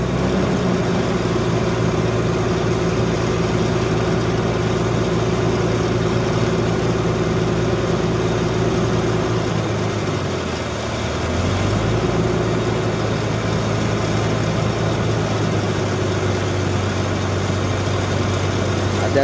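An off-road vehicle's engine idles in neutral at about 1000 RPM, a loud, steady low rumble that briefly dips and recovers midway, with voices talking faintly over it.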